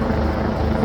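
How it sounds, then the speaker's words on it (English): Steady, loud helicopter rotor drone passing overhead, a continuous low throbbing wash that fills the whole moment without a break and with no voices. "He's probably tired of the flipping noise from the helicopter"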